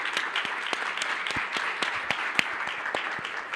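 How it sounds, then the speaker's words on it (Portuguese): Audience applause at a Brazilian technology conference, a steady wash of many hands clapping with a few sharper individual claps standing out, moderately loud and continuous throughout. "Por favor, uma salva de palmas para os nossos speakers e moderadores."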